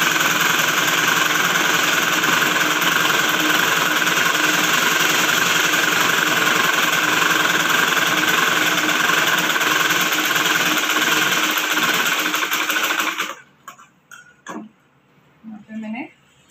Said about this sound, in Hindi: देखिए मैंने यहाँ पे लगभग कुछ 10 सिलाई मार दी है